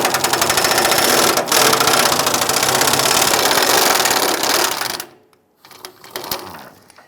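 Power tool loosening 18mm bolts under a 1995-2001 Ford Explorer, a loud sustained mechanical whirring rattle for about five seconds that cuts off abruptly, followed by a few quieter clanks.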